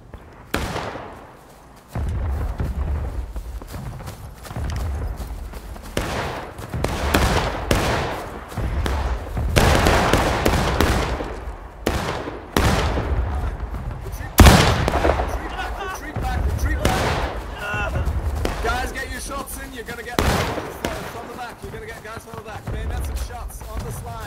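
Musket volleys ring out in the Civil War video game War of Rights, many sharp close and distant shots scattered irregularly across a long battle stretch, with voices talking in between.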